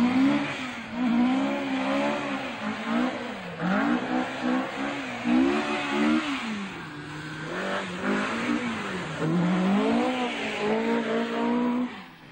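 A 1978 Saab Turbo rally car driven by Stig Blomqvist on twisty tarmac spectator stages at Bewdley Safari Park, its engine revving up and down through repeated gear changes, loud and close, with no talk.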